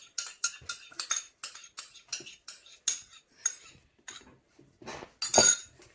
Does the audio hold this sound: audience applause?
no